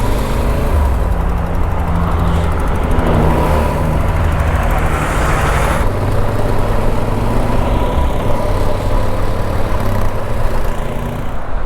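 Steady, loud road traffic in a jam on a highway on-ramp near the Mexican border, engines idling and revving around a motorcycle, with continuous rumble and wind noise throughout and no talking.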